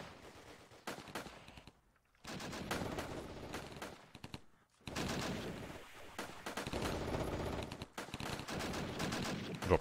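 Machine gun fire rattles in the Armoured Brigade war game, dense staccato bursts broken by short pauses, loud and continuous across the battle.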